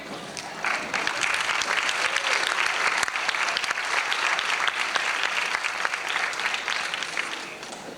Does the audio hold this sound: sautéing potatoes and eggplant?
no